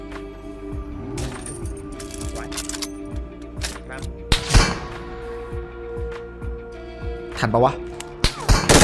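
Gunfire from an MG3 in PUBG Mobile comes as sharp, irregular cracks and bursts, some loud and close, mixed with clinks and thuds while someone talks excitedly over the action.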